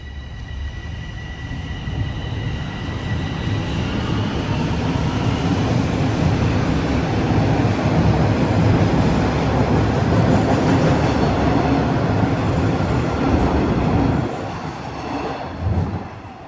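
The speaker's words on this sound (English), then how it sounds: "I'm gonna hop on the northbound train and start heading home" A Toronto TTC subway train at Dupont Station rumbles loud and close, building to a steady roar with clattering wheels before tapering off, with no talk.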